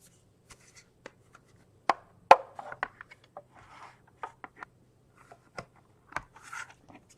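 A small paper die cut square with scalloped edges is snipped out with scissors, giving sparse close snips and crisp paper rustles in a quiet room.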